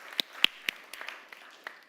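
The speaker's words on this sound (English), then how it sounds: "Big applause to you." A few faint, scattered hand claps at a startup event, sparse and uneven, with no voices.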